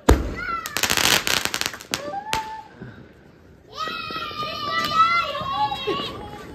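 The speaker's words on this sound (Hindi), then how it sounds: "मेरी माँ ने विस्फोटक बम को जलाते हुए" Diwali firecrackers burst in a family celebration, a cluster of sharp loud cracks early on followed by a sizzling whistle, with children and adults chattering and shouting around them.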